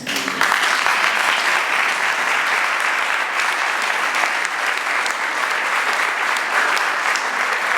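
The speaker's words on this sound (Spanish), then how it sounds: "por eso vamos a volverla a aplaudir" An indoor audience bursts into sustained applause for a woman being honored, dense even clapping holding steady for several seconds with no talk over it.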